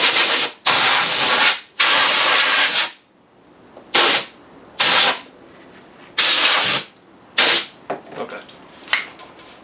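Compressed air blasts dust out of the engine cylinders of a 1968 Porsche 911 in a series of loud, close hissing bursts of varying length, separated by brief quiet gaps.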